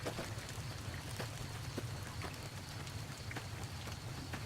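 Steady rainfall in the video game Fallout: New Vegas, Honest Hearts DLC, in Zion, patters down continuously, a soft wash of drops hitting surfaces with occasional louder splashes, no voices.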